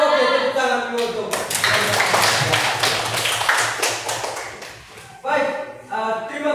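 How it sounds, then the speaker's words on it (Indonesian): Classroom audience clapping together after a group presentation during a teacher performance exam, a dense sustained round of applause with scattered claps trailing off and resuming near the end. "tepuk tangan dulu"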